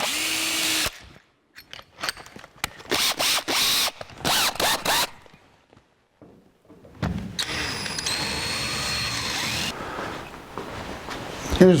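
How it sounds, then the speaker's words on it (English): A power drill bores a 29/64 inch hole during work on a 1949 Chevrolet gasser, several short bursts of close, loud whirring that stop and start, then a longer continuous run of drilling. "This hole is a 1/4 inch, so we'll drill a 1/4 inch hole here."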